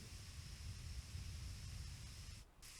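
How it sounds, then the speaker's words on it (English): A spray paint can sprays onto a rust-repaired car fender in a home garage, a faint, steady hiss running continuously and breaking off briefly near the end. "Just spray all this here that we"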